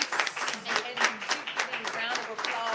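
Audience applause at a women-in-government event, with distinct hand claps in a loose, uneven rhythm and voices talking alongside.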